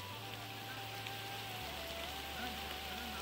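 Rain falls steadily on farm fields where bullocks pull ploughs during the Konkan planting season, a faint, even patter under a low, constant hum, with no voices.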